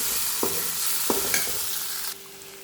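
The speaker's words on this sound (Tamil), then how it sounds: "இப்போ கிழங்கு போட்டுக்கலாம் போட்டு மிக்ஸ் பண்ணிக்கலாம்" A pan of cassava (tapioca) pieces being stirred over a sizzling base, with a few distinct scraping strokes of a spoon against the pan and a steady frying hiss underneath, no talking.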